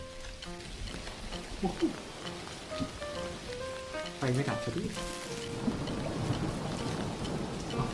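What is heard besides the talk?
rain and thunder in the video game Dinkum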